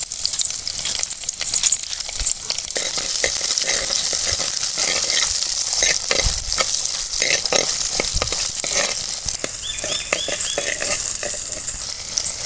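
Small onions, dried chillies and mustard seeds fry in hot oil, filling the scene with a loud, continuous sizzle and crackle, with a few close spatula scrapes and stirring knocks mixed in.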